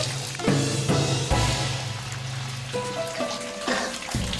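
Steady rain falls continuously, a dense wash of patter and drips under intermittent background music, fairly loud and close, with no talk.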